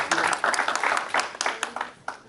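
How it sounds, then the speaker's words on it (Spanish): Applause for a doctor who has just finished a presentation at an academic social sciences forum, scattered clapping from a modest audience that fades unevenly and tapers toward the end. "primero un aplauso parcial a la doctora."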